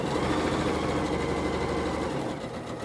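Sewing machine stitching a curved seam on a scrubs sleeve, a steady continuous motor whir with rapid needle chatter close by, running almost three seconds and easing off slightly at the end.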